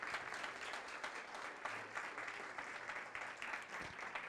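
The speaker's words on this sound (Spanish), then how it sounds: "Dele ese aplauso al Rey." A church congregation applauds steadily throughout, a dense wash of many hands clapping at moderate loudness with a faint voice now and then underneath.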